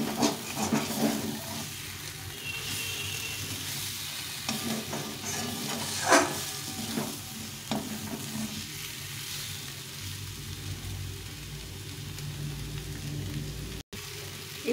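Spice paste for aloo dum fries in hot oil, a continuous soft sizzle and hiss broken by scraping stir strokes in the pan, close and fairly quiet, with no one speaking.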